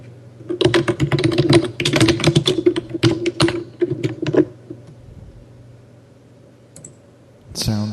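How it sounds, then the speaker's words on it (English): Rapid typing on a Lenovo computer keyboard, with dense bursts of key clicks for about four seconds, then a pause and a brief final clatter, close and clear over a low steady hum. "It sounds like a Logitech keyboard."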